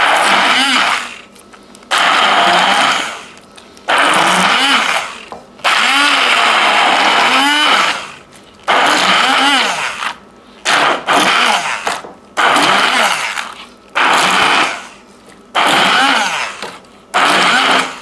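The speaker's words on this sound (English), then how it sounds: "just put the blender like right in the chunk and start on low again" An immersion blender runs in repeated loud bursts with brief pauses, its motor pitch dipping and bogging as it churns through thick corn and butter.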